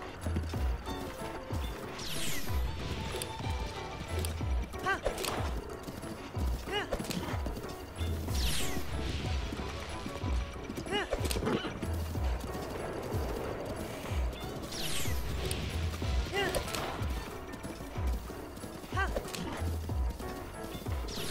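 Galloping horse hooves from Zelda: Breath of the Wild run steadily through about twenty seconds of dense game noise, with periodic louder bursts and a possible neigh, close and full.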